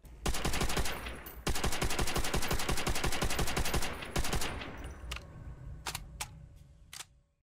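Gun fired in Call of Duty Black Ops 3: long rapid bursts of loud automatic fire, a brief pause between them, then a few spaced single shots as the firing trails off.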